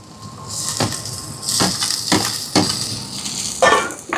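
Ginger and garlic sautéing in a pan while Chicken Puttu Kottu is cooked, a steady close sizzle broken by several sharp stirring scrapes and clatters, no talking.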